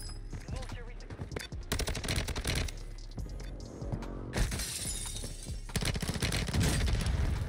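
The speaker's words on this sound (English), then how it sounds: "Oh my god, that was a grenade launcher." Grenade launcher fire and heavy gunfire erupt in a chaotic video game firefight, with bursts of rapid shots, shattering blasts and crashing impacts packed densely throughout at moderate loudness.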